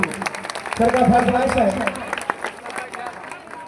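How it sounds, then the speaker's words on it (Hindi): An audience at a college event in Tarapur, Munger, Bihar gives a brief burst of clapping for a guest, rising and fading within a second or two while someone speaks over it. "एक बार जोरदार ताली बजा दीजिए सर के लिए।"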